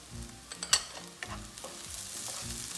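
Garlic and ginger frying in a pan for cauliflower Manchurian, with soft sizzling under repeated stirring scrapes and a sharp clink near the start, close and fairly quiet.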